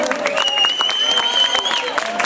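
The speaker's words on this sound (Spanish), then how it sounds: "Vamos a recibirlo con un aplauso de todos." An audience claps and cheers to welcome a performer on stage, a dense patter of applause with voices calling out over it.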